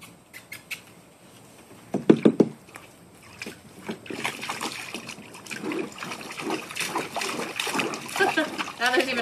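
A puppy splashing and sloshing in a small pool of water, with irregular splatters and trickles of varying loudness throughout, a sharp burst of splashes near the start, and people talking over it.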